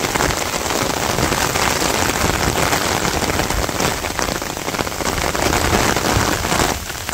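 Rain falls across an open field in a Bangladeshi village, a thick continuous wash of drops that stays loud and unbroken from start to finish, with no one speaking.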